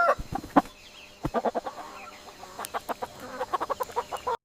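Chickens and roosters in a small village in Ghana's eastern region at dawn give a run of short, sharp clucks and calls in irregular bursts, fairly close and without talk.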